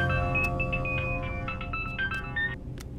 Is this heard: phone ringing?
yes